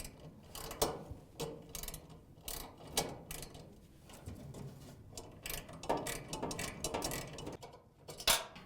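A wrench ratchets out a 5/16 screw from the igniter on a Whirlpool, KitchenAid or Maytag dryer burner tube, making steady metallic clicking and grinding with a few louder knocks.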